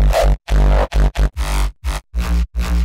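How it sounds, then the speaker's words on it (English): Processed hardstyle crunch kick from a sample pack, a run of nine heavy distorted punchy hits in an uneven rhythm separated by short gaps, loud and close with no voices. "Obviously, this is a processed crunch and it's already really good."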